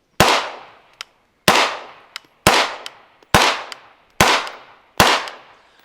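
Six sharp rifle shots fired from the shoulder at a range, each a loud close crack with a decaying outdoor echo, evenly spaced about a second apart with faint metallic clicks between, no talking.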